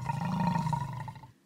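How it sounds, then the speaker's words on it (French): A wolf's roar used as a sound effect in a children's story, one short loud growling roar that cuts off abruptly. "un loup surgit."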